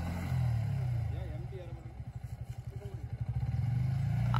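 A motorbike engine being revved gently while the bike is pushed, a low throbbing idle that breaks into a quick pulsing series of rev bursts before settling again, with people talking over it.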